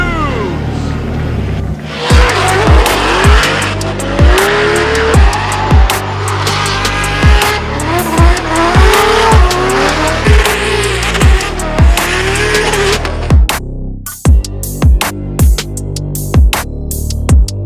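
A BMW drift car at a Formula Drift event in New Jersey, piloted by Dylan Hughes, roars through repeated revving shifts and sustained tire squeal, loud and close, ending in a series of sharp bangs.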